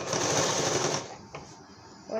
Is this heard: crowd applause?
no